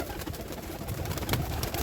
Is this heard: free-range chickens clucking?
no